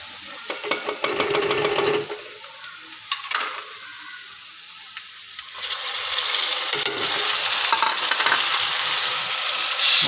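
Tomatoes added to light-browned onions for beef karahi, frying with loud sizzling and crackling while a spoon scrapes and stirs against the pot in bursts.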